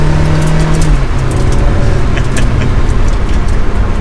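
A Ferrari 360 Challenge Stradale engine roars loud and steady from inside the car, pulling hard under acceleration with a sharp gear change about a second in, the drone continuing without talk.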